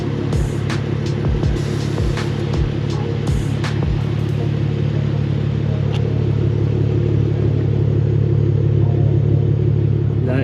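Air suspension on an Infiniti G37 adjusting to ride height: a steady low hum from the running car with a few sharp clicks and hisses early on, then a continuous rumble.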